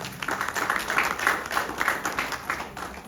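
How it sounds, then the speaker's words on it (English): An audience at a Hindu temple inauguration ceremony claps for an introduced guest, a lively, fairly close round of applause with clearly separate hand claps pulsing in an uneven rhythm. "Please give him a round of applause."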